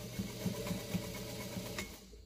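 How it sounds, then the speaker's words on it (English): A vintage White 305 sewing machine stitching a medium zigzag, running in a soft, even mechanical whir with regular needle beats for about two seconds before stopping, close and fairly quiet. "now it'll sew a medium zigzag"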